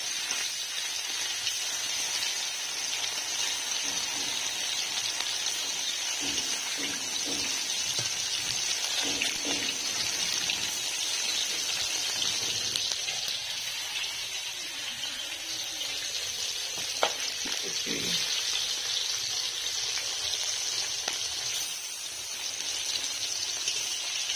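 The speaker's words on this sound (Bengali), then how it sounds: "তেলটা গরম হয়ে গেছে, এবার আমি মাছগুলো ভেজে নেব।" Barramundi (bhetki) pieces coated in salt and turmeric fry in hot mustard oil, giving a steady, even sizzling hiss that runs unbroken throughout, with faint soft bumps now and then.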